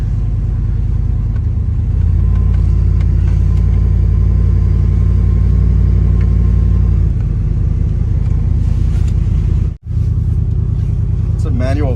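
A Chevrolet Silverado with a TH400 automatic transmission using a manual valve body runs close by, its engine giving a loud, steady rumble that drops out for a moment near the end.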